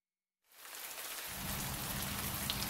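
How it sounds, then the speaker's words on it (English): Heavy, steady rain in a Welsh mining village in October, a dense continuous hiss that fades in from silence and thickens with a low drumming rumble after the first second, with no voices. "It has been raining heavily for 2 days"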